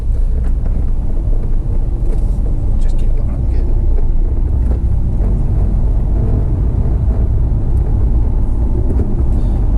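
Steady, loud rumble of road and engine noise inside a moving car, continuous throughout, with someone talking briefly over it.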